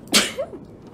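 A single sharp sneeze from a person standing in a cold garden, loud and brief near the start, followed by quiet background.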